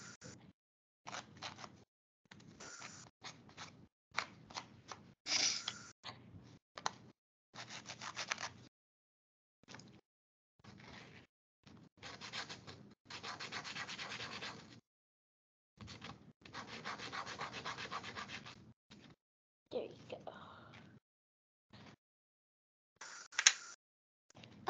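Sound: sanding a craft snowman heart

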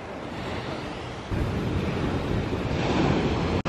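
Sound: ocean waves at a beach with a cave

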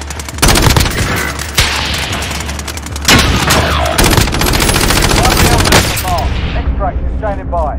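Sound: gunfire in Call of Duty video game

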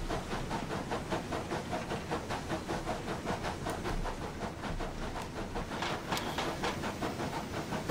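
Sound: steam locomotive No.34027 Taw Valley steam generator running

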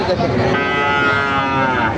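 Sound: cow mooing

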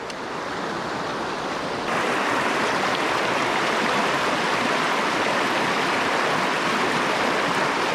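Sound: small waterfall on a river

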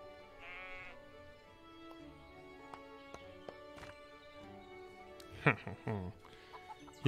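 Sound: sheep bleating in video game Everdream Valley

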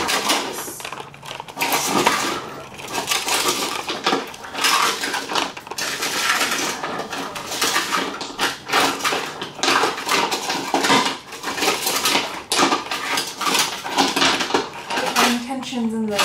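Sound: something sprinkled onto rocks

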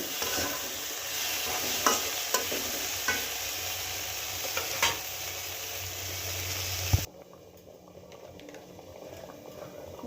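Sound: ingredients being stir-fried in a pan

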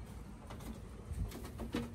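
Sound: pigeons cooing

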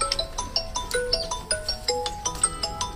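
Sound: phone ringing on an outgoing call

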